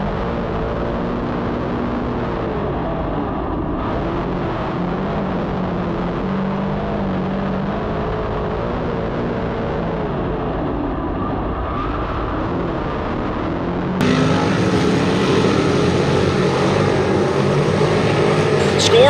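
Big block modified race cars roar around Brockville Ontario Speedway during a heat race, a continuous loud engine drone with passing swells, growing louder and brighter near the end.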